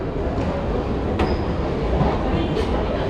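A Paris metro train roars through an underground station as a loud, continuous rumble, with brief high metallic wheel squeals rising above the din.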